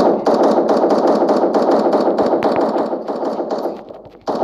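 Rapid automatic gunfire from the online shooting game 1v1.lol, a loud dense burst of shots that runs nearly continuously and tapers off near the end.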